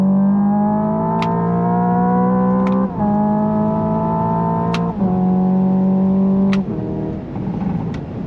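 A Hyundai Ioniq 5 N electric performance car revs hard and climbs in pitch through several simulated gear shifts, each shift causing a brief dip before the whine rises again, loud and close.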